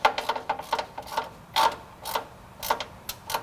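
Bolts being tightened on EVO MFG armor fenders of a Jeep, a string of quick ratcheting clicks in short bursts, close and fairly loud with brief pauses between runs.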